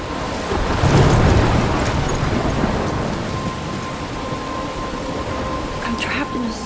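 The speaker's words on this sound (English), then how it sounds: "I'm trapped in a storm?" Thunderstorm in the game Life Is Strange, with a loud rumble of thunder over steady heavy rain, the roar swelling early and then easing into a constant wash of downpour.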